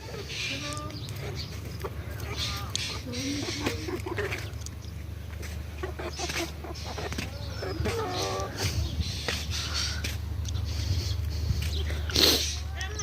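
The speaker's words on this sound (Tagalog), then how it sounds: "Yung mga manok ni na ante." Chickens cluck and chatter in a farmyard, with voices talking nearby over a low, steady background hum.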